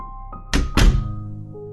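Two heavy thuds of a door closing in quick succession, close and loud, over a faint tonal background.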